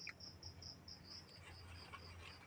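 Insects chirp steadily on a farm of cacao trees bordered by banana plants, a faint high pulsing trill repeating in even beats over a low outdoor hum.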